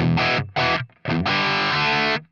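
An electric guitar plays short, overdriven chords, then a longer ringing one, with a crunchy Marshall-style amp tone from a NUX Trident and no audible reverb tail.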